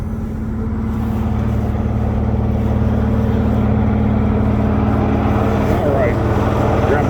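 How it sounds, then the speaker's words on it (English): A truck engine idles at a steady raised speed, a loud continuous low drone that holds evenly throughout with no break. "let's idle the truck up so it don't stall out."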